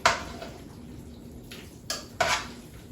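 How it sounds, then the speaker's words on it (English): Metal tongs stir alfredo-coated noodles in a pan, giving a few sharp metallic clinks and scrapes at irregular intervals over a quiet, wet background, close by and without talk. "we're gonna take our tongs here and we're just gonna stir it around like this"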